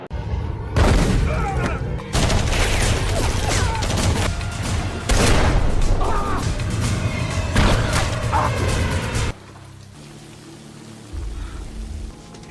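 A gunfight from the action film A Man Apart: loud, dense bursts of gunfire and booming impacts, with heavy rattling volleys that cut off abruptly near the end into a quieter background.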